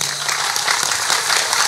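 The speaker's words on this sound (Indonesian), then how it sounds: "Tepuk tangan untuk Banser." Dense, loud crowd clapping for Banser members at a religious gathering in Indonesia, a continuous wash of hands with no clear breaks.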